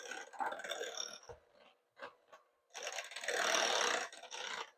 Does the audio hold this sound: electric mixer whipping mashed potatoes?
yes